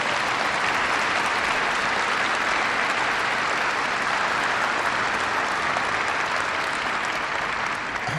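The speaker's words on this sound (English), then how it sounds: "Please give her a big round of applause." Steady, loud applause from a large conference audience at a presidential speech on space exploration, sustained clapping with no breaks throughout.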